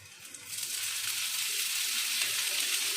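Mutton cutlet fries in oil over a medium flame, a steady, bright sizzle rising slightly after the first half second and holding constant, close and fairly quiet.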